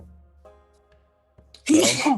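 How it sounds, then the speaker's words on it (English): A single sharp, close sneeze bursts out right after a short spoken word, loud against an otherwise quiet room during a tabletop role-playing session. "I've already sneezed twice."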